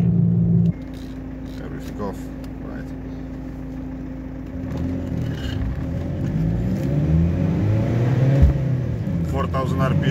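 A BMW E46 320d diesel sedan rumbles as it accelerates from low revs, with a gear change near the start and the engine building again beneath intermittent talking inside the car.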